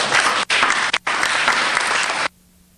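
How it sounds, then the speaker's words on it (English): Loud, dense audience applause at a community land-conversion meeting, filling the room with two brief breaks before cutting off abruptly near the end. "Let's give these guys a round of applause."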